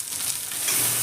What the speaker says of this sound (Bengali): সেই সসগুলো দিয়ে ভালো করে এবার আমি নেড়ে নিচ্ছি